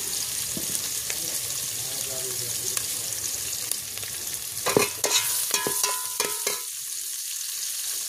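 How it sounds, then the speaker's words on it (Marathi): Onion sizzling in a pan on a wood-fired chulha stove for masala rice, a steady broadband fry with occasional stirring clatter and small scraping bursts near the end. "इकडं कांदाही आपला छान असं तळत आहे."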